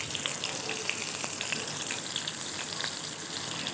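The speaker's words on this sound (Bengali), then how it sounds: "এবার ওই তেলেতেই সামান্য পরিমাণে কালো জিরে ফোড়ন দিয়ে দিচ্ছি, আর দিয়ে দিচ্ছি" Nigella seeds and slit green chillies sizzling in hot oil for a fish curry, a steady close fizzing crackle with scattered small pops throughout.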